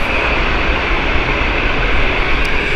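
A British Airways Boeing 777-200 jet at Gatwick Airport roars steadily, a loud, dense, unbroken engine rumble with broadband hiss and no voices.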